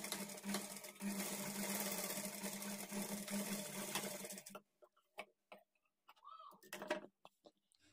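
A sewing machine stitches a blouse, running in a steady continuous whir for several seconds before stopping, followed by a few scattered clicks and handling sounds in near quiet.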